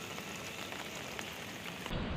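Heavy monsoon rain pours down at a temple near Lonavala, a dense, constant patter and hiss of drops on surfaces filling the whole scene without letting up.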